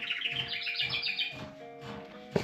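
A pet bird chirps in a busy home, giving a quick run of bright, close tweets that fades into softer calls with a faint household hum behind it.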